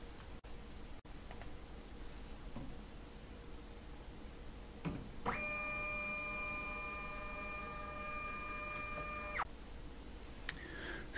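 An Epson Perfection 1650 flatbed scanner clicks a few times, then its carriage motor whines with a steady high electronic tone for about four seconds before stopping. It is faint, with soft clicks before and after.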